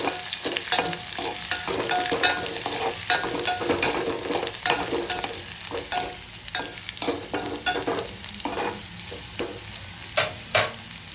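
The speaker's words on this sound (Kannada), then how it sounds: "ಬೆಳ್ಳುಳ್ಳಿನ ಇದ್ರಾಗ ಹಾಕ್ತೀನಿ." Crushed garlic hits hot oil in a pan already holding green chillies, frying with a steady sizzle while a spoon stirs in repeated scraping strokes; close and continuous, with no voices.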